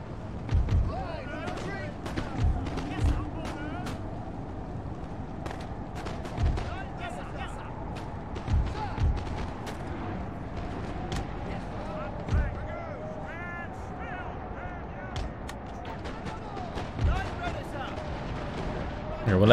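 Cannon fire booms in the Napoleon: Total War video game, scattered deep reports spaced irregularly over a continuous battle din, moderately loud, with someone talking over much of it.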